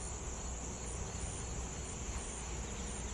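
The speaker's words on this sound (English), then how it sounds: "They're pretty full of bees. They're working in there." Honey bees in a hive's honey super, a dense continuous buzzing hum, close and steady with no talking.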